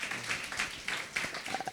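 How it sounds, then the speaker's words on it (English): An audience applauds two speakers at a talk on the New Silk Roads, a faint, steady wash of many hands clapping that continues for under two seconds. "Please give both of them a big round of applause."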